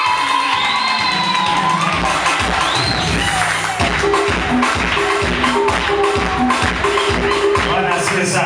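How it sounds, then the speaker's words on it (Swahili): A church congregation claps and cheers loudly, with dense applause and scattered shouts running throughout and settling into a steadier rhythmic clapping partway through. "Kwa mmenielewa, mngepiga makofi."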